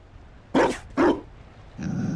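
Dog in Dragon Age: Inquisition, Orlesian setting, gives two loud, close barks about half a second apart, then a steady low game ambience with a thin high tone follows.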